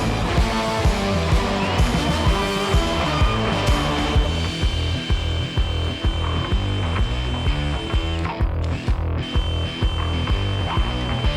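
A power drill bites through spot welds on a 1986 Toyota FJ60 Land Cruiser body, grinding in a fast, steady ratcheting chatter that stays loud and close, with a brief pause near the end.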